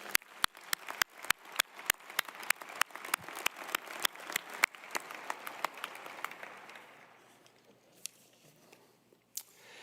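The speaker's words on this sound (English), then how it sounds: "Please join me in giving them a great round of applause." Applause at a University of Wyoming winter commencement ceremony: a crowd claps steadily with sharp individual claps standing out early, then thins and fades to scattered claps before a last few near the end.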